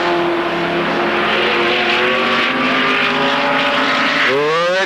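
Several race car engines drone loudly at speed on track, right after a crash during a 1991 race. The pitch climbs and shifts as cars pass, and one sweeps upward sharply near the end.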